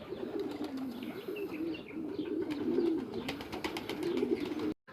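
Pigeons coo in low, rolling phrases throughout, a steady murmur from birds kept in cages, with a few faint chirps over the top. The cooing breaks off abruptly just before the end.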